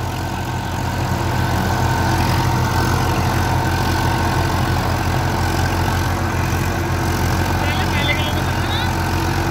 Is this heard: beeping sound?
no